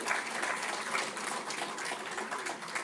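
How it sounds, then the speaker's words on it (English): Audience at a university convocation ceremony applauding steadily, a dense, continuous clatter of many hands clapping at close range for the whole span with no talk. "Let us give a huge round of applause and congratulations to all award winners"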